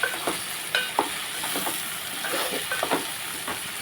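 Ivy gourd curry fries in a pan with a steady close sizzle and hiss, broken by repeated scraping stirs of a spatula throughout.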